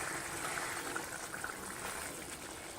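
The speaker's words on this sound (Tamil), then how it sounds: "அந்த குழம்பு வந்து நல்லா கொதிச்சிருச்சு" A pot of sardine fish curry bubbling at a steady boil, soft continuous gurgling and popping close by, with no voices.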